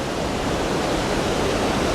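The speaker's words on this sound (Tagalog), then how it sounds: "Apakalakas ng agos ng tubig." Strong brown floodwater current surges through a river beneath a bridge during a typhoon, a loud, steady broadband roar with no letup and no voices.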